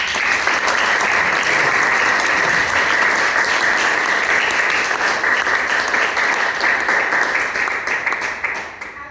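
Loud, dense applause from an audience at an Italian historical society event honouring migrants, steady crowd clapping that stays strong for most of nine seconds before fading at the close.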